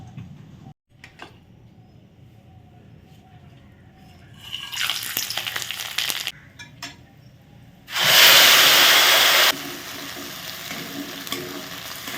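Whole cumin, bay leaf, cardamom, cloves, dried chillies and ground masala with yogurt frying in oil, a soft sizzle and stirring that swells into a loud, steady hiss for a couple of seconds before settling back.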